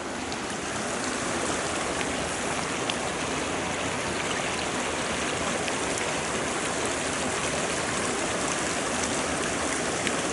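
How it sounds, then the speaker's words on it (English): A small mountain stream in Yellowstone flows in a steady, broad rushing wash, close and continuous for the whole stretch with no voices. "And I found a little stream."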